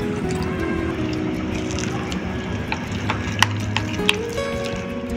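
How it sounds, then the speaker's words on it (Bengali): Batter being whisked in a bowl while water is poured in little by little, a steady wet stirring and swishing with a few sharp clinks of utensil against the bowl, close and moderately loud, with no talking. "একটু করে ফেটিয়ে জলটা দেব"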